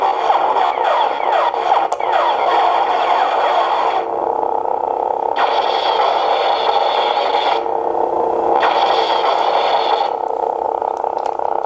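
A CSJ Props JQ Quinlan Vos lightsaber running an Igniter Mini sound board, humming loudly and continuously with repeated bursts of crackling, flickering auxiliary effects, close and alone.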